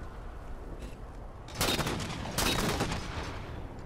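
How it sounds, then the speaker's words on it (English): Gunfire in Halo: The Master Chief Collection, two loud broadband bursts a second apart, the second longer with a ringing tail, over a steady low game rumble. "Oh, I missed the second shot."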